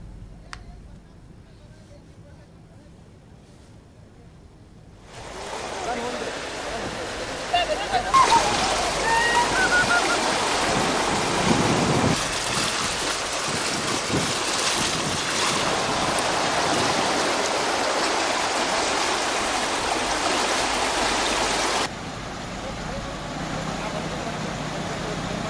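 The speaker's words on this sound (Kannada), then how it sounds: "ಸಾತಿಹಾಳ ಗ್ರಾಮದಲ್ಲಿರುವ ಸೇತುವೆ ಮುಳುಗಡೆಯಾಗಿದ್ದು ಡೋಣಿ ನದಿಯ ಇಕ್ಕೆಲದ ಕೃಷಿ ಪ್ರದೇಶ ನೀರಿನಿಂದ ಆವರಿಸಿದೆ" Floodwater of the Doni river rushing over a submerged bridge near Satihal village, flooding the farmland on both banks; a broad, steady roar of flowing water that swells after a few seconds and carries on loud and continuous.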